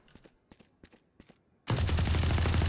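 Footstep-like taps come first, then the Ares heavy machine gun in the game Valorant opens up in a sudden, loud continuous burst of rapid fire that runs to the end.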